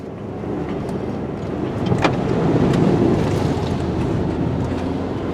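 A 2021 Ford Ranger Tremor ploughs through two feet of mud on a riverbed. A loud, continuous engine rumble and churning swell in the middle, then hold steady with no talking.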